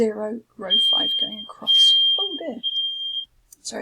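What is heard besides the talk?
fire alarm beeping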